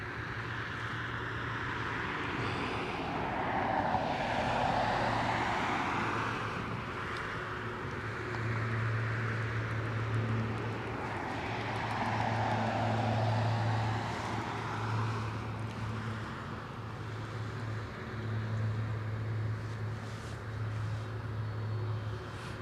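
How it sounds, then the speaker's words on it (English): A light aircraft on approach to Anchorage drones steadily at moderate distance, its engine tone swelling and fading in slow waves over a low constant hum, with no voices. "there is a light aircraft on approach"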